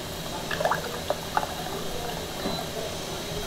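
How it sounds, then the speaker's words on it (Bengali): Hot water runs out of a water purifier's tank in a thin, steady trickle with small splashing and gurgling bursts, close by and moderately quiet. "দেখুন গরম জল বেরোচ্ছে।"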